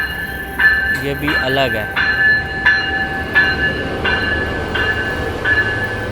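An Amtrak or local double-decker train draws into a California station platform, its steady rumble punctuated by repeated high electrical tones from the rails while someone speaks briefly over it.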